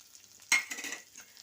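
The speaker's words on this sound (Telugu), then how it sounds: "అవి వేసుకుని కాస్త అల్లం పచ్చివాసన పోయేంత వరకు వేయించుకోండి" Chopped ginger and green chillies drop into hot tempering oil and sizzle: a sharp burst of frying crackle, then a fizzing sizzle that fades over about a second, close up.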